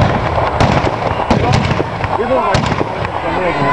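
Rapid sharp bangs crack out in quick succession, loud and close, with voices talking and calling over the shots at a historical reenactment of the Battle of Palestro.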